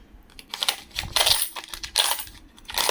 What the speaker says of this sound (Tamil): இது ஒரு 6 ஆண்டுகளுக்கு முன்பு உள்ள நாணயம்.